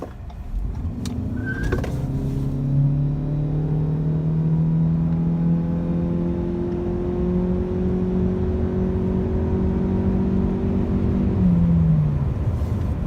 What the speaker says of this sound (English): you see the tires did squeal